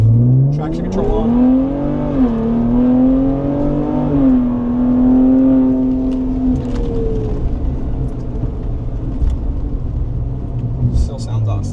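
Ford Explorer ST with a cat-back exhaust pulling hard, engine note rising in a loud rumbling surge that climbs through a gear change, then settles into a lower cruising drone with road noise.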